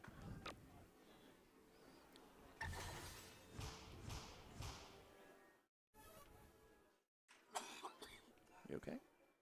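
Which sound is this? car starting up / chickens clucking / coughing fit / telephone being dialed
coughing fit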